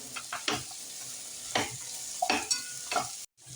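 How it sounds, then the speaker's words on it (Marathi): Vegetables for veg biryani stirred in a pan over medium gas, with soft sizzling under several scraping strokes of a spoon at close range, then a brief silence. "मिक्स करून घेऊया आता मीडियम गॅसवरच करून"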